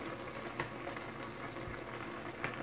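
A vegan stir-fry sauce thickened with cornstarch sizzles and bubbles in a pan on the heat, a steady quiet frying hiss with faint pops and no talking.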